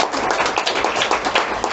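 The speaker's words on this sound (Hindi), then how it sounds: "जोरदार खुदावंद के लिए ताली बजाएंगे" A church congregation claps together at a worship service, dense continuous applause-like clapping with a steady fast rhythm, loud and close, filling the whole moment with no speech.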